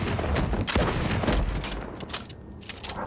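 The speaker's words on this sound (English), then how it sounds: "even though that's a pump shotgun" A pump shotgun fires in the video game Borderlands amid a busy firefight, with rapid overlapping gunshots and booms that stay dense and loud throughout, thinning slightly toward the end.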